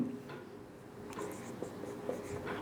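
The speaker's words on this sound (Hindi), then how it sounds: "तो मैं पहले कॉन्सेंट्रेशन लिखता हूं C1" Marker or chalk writing on a board during a chemistry lesson, quiet scratchy strokes in short bursts with faint room noise.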